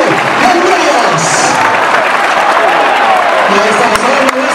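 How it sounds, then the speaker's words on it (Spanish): Crowd at a bull-leaping contest in Larraga, Navarra, clapping in a dense sustained wash under an excited announcer talking over a loudspeaker. "esas palmas, en alto, que se escuchen las palmas"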